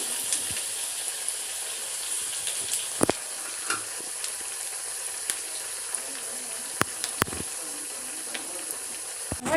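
Steady crackling sizzle of wheat snacks deep frying in hot oil over a medium flame, continuous throughout with a few sharp pops and clinks, no talking.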